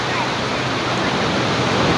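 Waves at Lhoknga beach in Aceh give a loud, continuous surf wash, a dense steady roar close to the listener.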